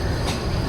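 The Parjatak Express creeps at walking pace onto the old Kalurghat bridge, a brief, steady, close rumble of rolling wheels and carriages.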